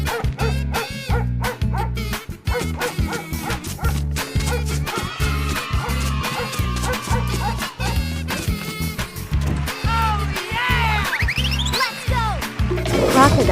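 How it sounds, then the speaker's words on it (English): Dog barking and yipping in a cartoon for children, quick repeated barks over bouncy music with squeaky effects throughout. "Dog."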